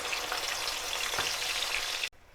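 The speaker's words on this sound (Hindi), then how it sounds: "अब मैं इसमें डाल रही हूँ प्याज।" Onion goes into hot oil with cumin seeds for a red kidney bean curry and fries with a dense, steady sizzle. The sizzle holds close and even, then cuts off sharply at the end.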